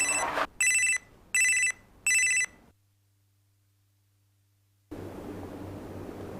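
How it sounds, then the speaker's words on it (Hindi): A telephone in a Hindi TV serial rings four times in loud, evenly spaced electronic trills, then goes silent before a steady hiss of room noise takes over. "किसका फोन है?"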